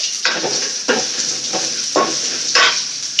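Onions sautéing in a pan, a constant bright sizzle with four or five scraping stirs of a spoon against the pan, close and loud.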